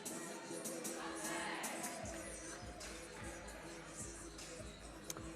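Spectators file into a basketball gym before a men's game, making a low, steady murmur of indistinct chatter and shuffling that fills the room, with a voice speaking over the background hubbub.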